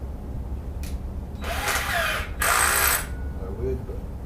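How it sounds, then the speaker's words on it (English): Two bursts of a power drill boring a hole for a gooseneck hitch install, each whining for roughly a second with a short gap between, close and loud over a background of quiet chatter. "Can I try to drill the hole?"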